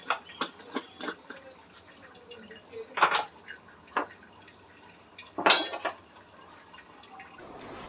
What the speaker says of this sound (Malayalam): ശരിക്കും അടച്ചില്ലെങ്കിൽ അത് ഇത്തിരി വെള്ളം ഇങ്ങനെ ഡ്രോപ്പായിട്ട് വീണുകൊണ്ടിരിക്കും